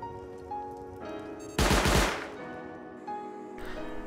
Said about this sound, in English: another turret.